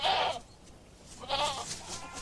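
Goats on a Madagascar forest edge give two bleating calls, a loud one at the start and another after a short pause, with no talk.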